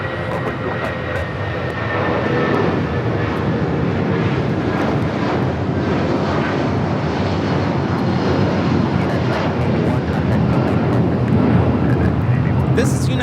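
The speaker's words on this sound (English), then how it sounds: "1981 taking off to Newark on the 757-200." A United Airlines Boeing 757-200 on its takeoff roll at LAX, bound for Newark, a loud sustained jet engine roar with broadband rumble that holds steady throughout, heard from nearby under wind noise.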